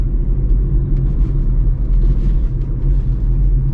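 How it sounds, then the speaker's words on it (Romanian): A 2007 Hyundai Accent engine idles steadily with a deep, even low rumble, close by and continuous, with no voices. "Pornește la sfert, motorul se aude ceas."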